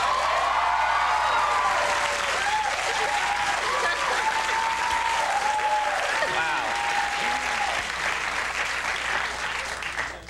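A large television studio audience of about two hundred applauds steadily, a dense sustained roar of clapping with some cheering that fades near the end.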